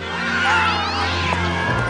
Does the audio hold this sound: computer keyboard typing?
no